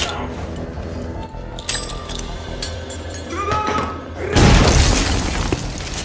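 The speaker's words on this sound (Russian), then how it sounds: "Попробуй взорвать. Бросай гранату" A grenade blast staged during filming of the 2016 action film Hardcore: scattered clinks and low thuds with faint voices, then a sudden loud, broad explosion that rumbles on for a couple of seconds.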